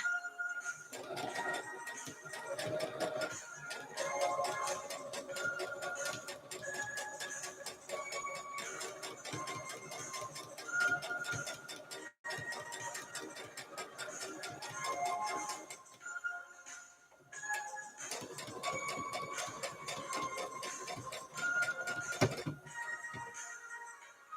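A domestic sewing machine stitches steadily, a rapid mechanical patter with short pauses around 12 and 16 seconds, running near and fairly loud with no talk over it.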